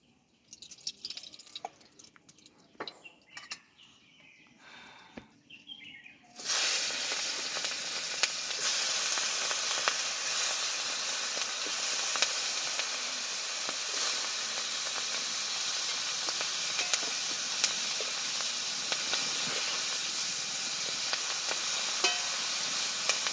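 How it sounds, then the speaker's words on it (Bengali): Fish rubbed with salt and turmeric sizzles loudly in hot oil in a kadai wok. After a few quiet seconds of faint clatter, a sudden dense, steady hiss begins and holds unbroken at close range, with no talking. "এবার আমি রান্না করার জন্য কড়াই তেল দিয়ে দেবো, মাছটা ভেজে নেব।"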